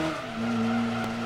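Tires on a car in Gran Turismo 2 squeal in a sustained, tonal skid as the car oversteers, with a low engine drone underneath.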